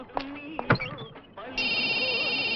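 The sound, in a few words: telephone ringing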